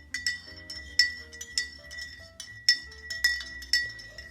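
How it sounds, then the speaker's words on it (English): A spoon stirs ramen in a bowl, sending bright, ringing clinks against the side at a fairly regular pace, roughly two or three strikes per second, each with a short metallic ring. "Now we're gonna stir it with the spoon"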